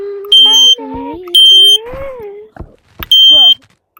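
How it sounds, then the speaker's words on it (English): A smoke detector sounds in short, piercing electronic beeps, three loud bursts spaced about a second apart, with a person talking and exclaiming between them. "The big damn smoke alarm's going."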